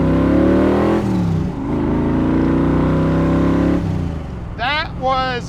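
A 1965 Shelby Cobra Factory Five with a supercharged engine revs at quarter throttle, a loud sustained droning roar with a pitch dip and rise, then easing off to a brief burst near the end.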